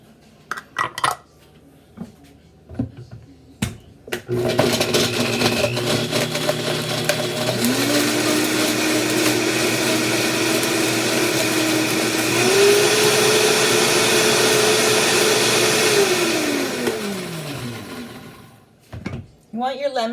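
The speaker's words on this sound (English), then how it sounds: "The very first thing I'm going to blend up are the lemons with some water." A countertop blender whirs up lemons with tap water, starting after a few clinks and knocks, rising in pitch as the motor spins up, running loud and steady, then winding down to a stop with more handling noise.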